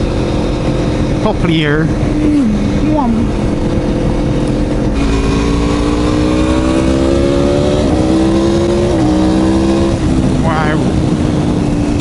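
Aprilia Tuono Factory V4 1100 motorcycle engine heard on the move, loud and close, rising and falling through revs and gear changes under heavy wind noise, while a rider talks over it.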